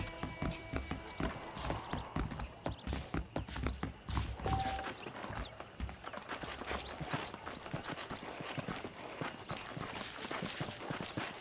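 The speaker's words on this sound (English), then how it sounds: "The horses are saddled up over here." Saddled horses walk along in the Western video game Red Dead Redemption, their hooves clip-clopping in a steady uneven rhythm close by, with a brief whinny and soft ambient background.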